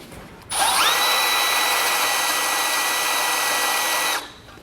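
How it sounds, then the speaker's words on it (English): A power drill with a half-inch bit spins up and runs steadily at high speed for a few seconds with a whining tone, then stops abruptly; close and loud. "We'll grab our 1/2 inch drill bit and get it started."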